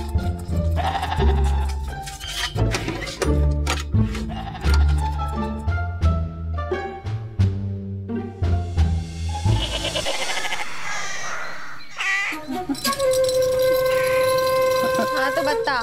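A goat bleats loudly again and again in a quarantine Eid comedy scene, the calls close and insistent, with background music and effects running underneath.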